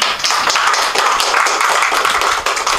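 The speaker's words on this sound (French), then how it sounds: "je suis applaudi avant même d'avoir parlé" An audience at a talk on the French Church and Islam applauds as the speaker is introduced, a dense continuous burst of clapping, loud and close, with no speech over it.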